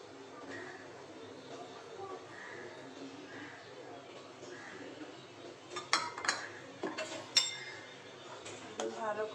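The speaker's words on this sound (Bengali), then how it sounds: "ভালো করে নেড়ে চেড়ে দিব" A spoon clinks and scrapes against a pot while onion payesh made with boiled milk and condensed milk is stirred, quiet at first and then a cluster of sharper metallic knocks near the end.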